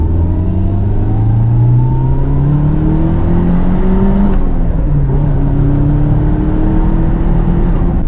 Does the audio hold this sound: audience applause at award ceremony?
no